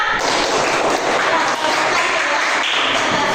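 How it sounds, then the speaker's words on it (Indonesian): Students in a classroom clap for a fellow student group, a dense, steady wash of applause filling the room throughout without a break. "Tepuk tangan semua."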